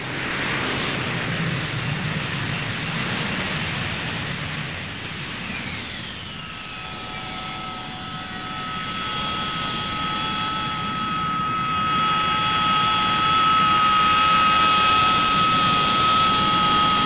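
An AV-8A Harrier jet flying near a carrier produces a loud, sustained roar that rises into a strong, whining jet-engine tone and keeps building to the end, with no voices.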